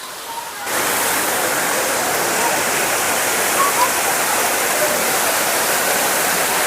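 Thirparappu waterfall on the Kerala–Tamil Nadu border roars as a loud, dense, continuous rush of falling water, steady and close after a brief quieter start.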